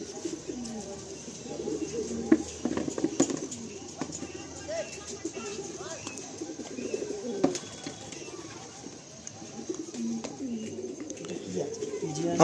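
Racing pigeons coo softly and repeatedly inside a rooftop loft fitted with a trap door, a low murmuring chorus with occasional wing flutters, heard under people talking nearby.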